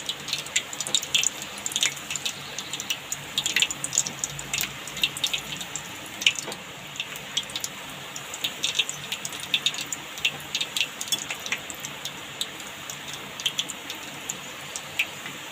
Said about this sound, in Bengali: ঘুরিয়ে আমি কিন্তু পাঁপড়টাকে ভেজে নিচ্ছি